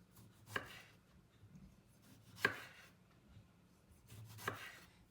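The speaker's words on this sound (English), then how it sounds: "I'm gonna cut up these tomatoes for Sasha to dice" A knife cutting through medium tomatoes on a board, three sharp, separate chops spaced about two seconds apart against a quiet background.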